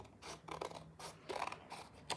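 Scissors cut through paper along a pencil line, a close, quiet series of short crisp snips and scraping strokes in an uneven rhythm, with no talking.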